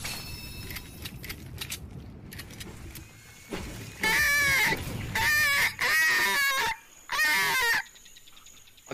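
Birds call in a video game, first faint clattering and then four loud bursts of squawking, rooster-like calls in quick succession, each lasting under a second, close and prominent.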